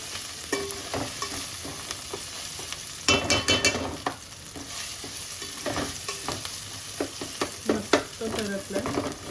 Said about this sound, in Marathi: तेलात चांगली परतवली की आपण मस्त परतवून घेतलं आहे